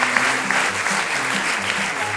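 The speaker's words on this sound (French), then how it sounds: "applaudissons-nous" Audience applause at an improv theatre show during the Paris improv festival, a steady dense wash of clapping lasting a couple of seconds with faint voices beneath.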